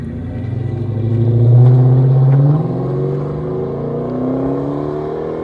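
A 2005 Dodge Magnum RT with a 5.7L Hemi V8 and Flowmaster Super 10 mufflers, rear delete and 4-inch tips, revving loud and close: a deep exhaust rumble swells into one sustained rev, settles back, then climbs again.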